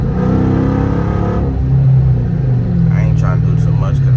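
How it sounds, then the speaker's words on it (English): A 2013 Dodge Charger R/T engine rumbles and revs up briefly, heard up close as a deep, loud drone with a rise in pitch, while someone talks over the first part. "let me let y'all hear the car"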